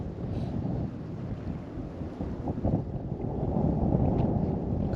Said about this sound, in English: that wind is like blowing it in